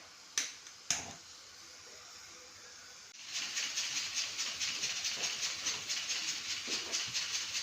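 A pressure cooker in a home kitchen, with two sharp clicks and then a steady, loud, rhythmically pulsing steam hiss that fills the rest of the time without talk.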